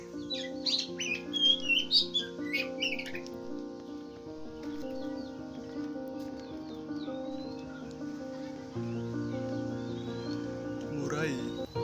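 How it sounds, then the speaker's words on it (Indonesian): A canary gives a short run of high, quick chirps and trills near the start, then fades under steady, droning background music. "kenari."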